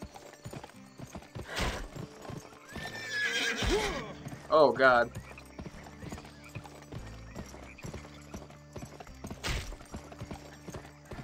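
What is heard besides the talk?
horse galloping and neighing in the video game Gun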